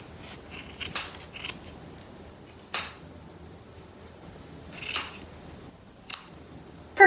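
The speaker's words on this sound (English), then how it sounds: "you're going to cut the little loops at the end" Scissors snip through loops of yarn on a craft doll, a series of crisp close cuts in small clusters, then isolated single snips against a quiet room.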